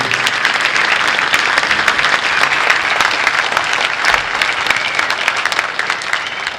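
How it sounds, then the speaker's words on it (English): Sustained, dense applause from a large audience at a city band concert fills the space, steady and loud for several seconds with no talking. "Let's give them a big round of applause, too."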